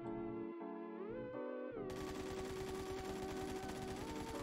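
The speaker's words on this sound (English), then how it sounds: "We're gonna do a hip fire real quick." AKM rifle with no attachments hip-firing in the game Phantom Forces, a rapid continuous stream of automatic shots breaking in after a droning tone and running steadily to the end.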